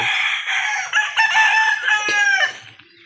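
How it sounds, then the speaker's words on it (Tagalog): A fighting rooster crows loudly nearby on a farm in one long, drawn-out call, with softer clucking underneath and a brief pause before it trails off. "Ang sabong na manok dia"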